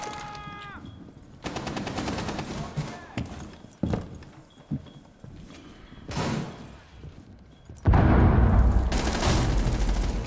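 Bursts of automatic gunfire in Rainbow Six Siege, rapid rattling volleys broken by sharp single shots and thuds, loud and close, ending in a sustained heavy burst.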